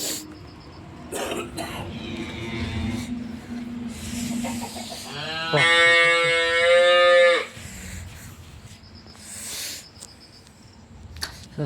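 A goat bleats once in a long, loud, wavering call near the middle, with quieter rustles, snorts and brief throat-like noises before and after in an outdoor setting.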